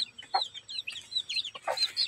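Several brooding mother hens cluck softly nearby in short, irregular bursts of chatter over about two seconds.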